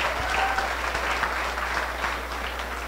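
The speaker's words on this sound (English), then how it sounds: "de bien vouloir applaudir" An audience of guests at Stephanie and Steven's celebration applauds the couple's entrance, dense continuous clapping that stays loud and even throughout, with a low steady hum underneath.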